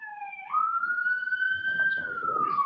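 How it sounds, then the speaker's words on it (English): A police siren sound effect wails loudly in one long sweep, rising quickly, holding high, then sliding back down, with a faint murmur of background noise underneath. "Here come the sirens when you're lying"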